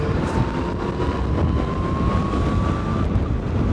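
A Yamaha MT-09 Tracer motorcycle accelerates hard in top gear from about 70 during an overtake, its engine note climbing steadily beneath loud, constant wind rush at the microphone.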